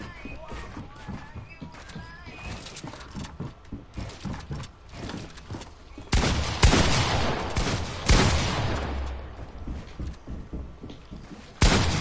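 Fortnite gunfire crackles in rapid bursts, fast rattling volleys over the first half and then heavier, louder blasts in clusters around the middle and at the end, with a voice talking in between.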